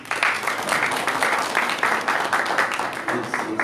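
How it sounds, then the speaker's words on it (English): An audience at a lecture on qualitative research methodology gives a round of applause, close, loud clapping with a steady rhythm and a few voices underneath. "Another round of applause, please."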